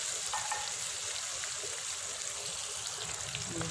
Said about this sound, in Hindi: मैं इसको अच्छी तरह से मज़ीद भून लूँगी ताकि इसमें से जो स्मेल है ख़त्म हो